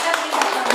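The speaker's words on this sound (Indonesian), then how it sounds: "Tepuk tangan." A short burst of clapping from a group, several quick claps close by with some voices mixed in.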